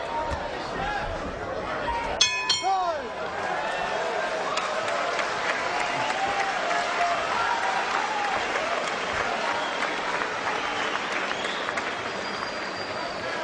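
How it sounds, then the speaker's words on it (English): A boxing arena crowd applauds and cheers loudly at the close of round four, steady clapping and chatter with a commentator talking over it. "Crowd getting into it big as we close out round 4."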